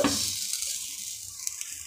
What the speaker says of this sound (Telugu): అది కొద్దిగా ఫ్రై అవనిద్దాం